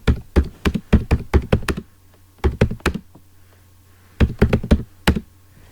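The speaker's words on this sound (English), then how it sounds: "you can see the striking sound of keyboard because of this keyboard" Typing on a laptop keyboard, picked up by the laptop's own mic as three quick bursts of sharp, close key clacks separated by short pauses.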